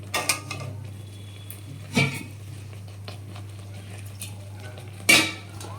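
Lote fish braising down in a pan, with a few sparse spatula knocks and scrapes against the metal over a steady low hum.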